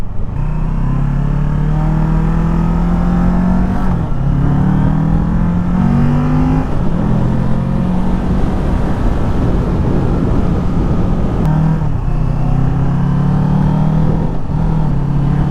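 A 2020 Kawasaki Ninja 650 with a 6-speed manual gearbox runs at speed on the road, its engine droning loud and close with rising and falling revs through gear changes, continuous throughout.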